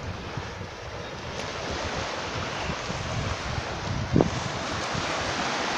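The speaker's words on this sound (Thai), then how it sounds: "ก็จะมีคลื่นอย่างนี้นะครับอันนี้เป็นทะเลเปิดนะครับ" Ocean waves wash steadily onto an open-sea beach in Phuket, a continuous broad rushing surf with wind buffeting the microphone and no pauses.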